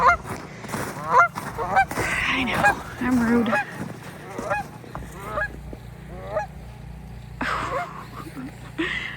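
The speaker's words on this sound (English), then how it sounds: "I love geese." Geese honk repeatedly at close range, loud and irregular, near a bridge in snowy St. Louis, with a person speaking briefly between the calls.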